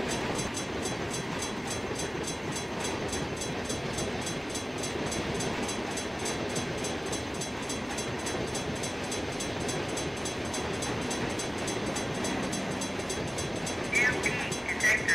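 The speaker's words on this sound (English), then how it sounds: "Ooh, it's a long train." A long freight train rolls past in a railroad video game, a loud, continuous rumble of wagons and wheels that holds steady throughout, with a brief higher squeal near the end.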